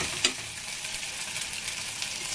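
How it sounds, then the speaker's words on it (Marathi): Khubba masala sautés in a pan, a constant close sizzle with light stirring scrapes and one brief clink near the start. "थोडंसं परतून घेऊया."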